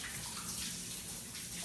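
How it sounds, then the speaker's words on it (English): Running tap water streams steadily as hands are rinsed after rubbing yellow mustard onto a pork loin in a kitchen, a continuous close splashing wash with no talk. "I'm gonna rinse my hands."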